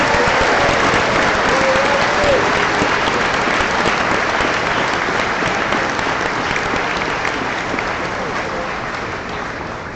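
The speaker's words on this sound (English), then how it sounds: "Let's have a final round of applause for the outstanding recipients." Loud, sustained applause from a large graduation convocation audience honoring award and bursary recipients at a high school ceremony, dense steady clapping that fills the whole stretch and tapers slightly toward the end.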